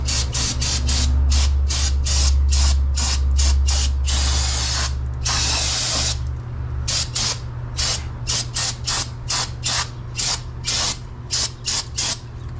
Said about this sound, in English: I don't really care that the boots get soaked with brake cleaner